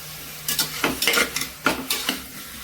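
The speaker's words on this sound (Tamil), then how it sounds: "போட்டு சும்மா ஒரு கிளறுப்பா." A spoon stirs raw chicken and potatoes through hot oil and spice powder in a pan for a chicken curry, giving about half a dozen close scraping strokes over a soft sizzle.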